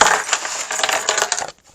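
A bunch of keys on a key ring jingles and clinks in a steady metallic rattle for about a second and a half, then stops abruptly; close and fairly loud, with no voices.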